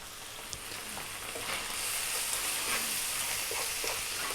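Chili, coriander, cumin and turmeric sizzle in a hot pan over above-medium heat for an Indian tilapia fish curry, a steady soft frying hiss with faint stirring scrapes, close up and alone.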